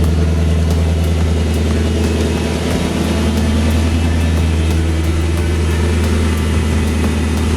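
A BMW E39 M5 engine and exhaust with the resonators deleted runs near and loud, a steady deep idle burble that holds alone for several seconds with no talking.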